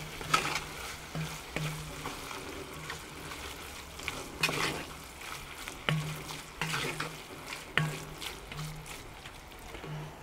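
Beer-braised goulash browning in a cast-iron Dutch oven, with a spoon stirring the sizzling meat in repeated scraping strokes over a steady close fry.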